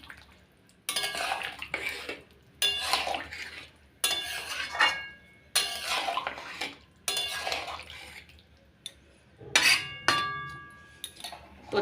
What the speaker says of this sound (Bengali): দিয়ে ভালো করে মিশিয়ে দিচ্ছি